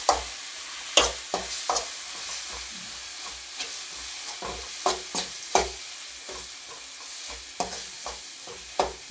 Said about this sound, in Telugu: కారం అయితే దీంట్లోనే వేసేసి బాగా అయితే మిక్స్ చేస్తున్నాము